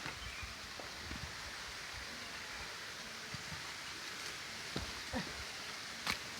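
A large waterfall ahead in rugged terrain gives a faint, steady hiss of rushing water from a distance. Occasional small knocks and rustles sound close by, and no one speaks.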